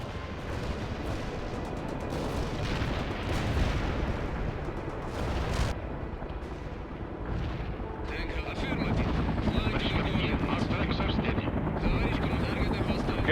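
Military helicopter rotors thump steadily amid bursts of gunfire and explosions, a loud, busy battle soundscape from the video game World in Conflict, with a voice speaking over it.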